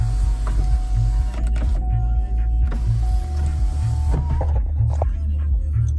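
A 2010 Cadillac Escalade Platinum sunroof motor runs loud and close as the roof opens, a steady electric whine over a low hum with faint clicks and creaks, stopping and restarting near the end.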